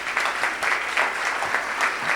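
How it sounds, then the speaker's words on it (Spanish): Audience at a lecture hall event clapping to welcome guest speakers, a short burst of brisk applause that carries evenly from start to end without voices. "Yo quiero pedirles un fuerte aplauso para Lucas Raspal,"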